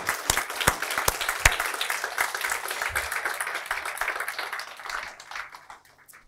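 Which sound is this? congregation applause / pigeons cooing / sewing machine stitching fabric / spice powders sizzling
congregation applause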